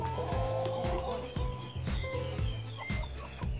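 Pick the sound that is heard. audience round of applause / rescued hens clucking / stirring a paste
rescued hens clucking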